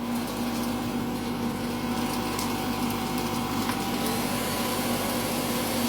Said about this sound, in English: Now we'll turn on the vacuum.